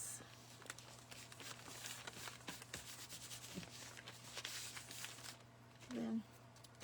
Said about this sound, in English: I'm going to just rub it on with my fingers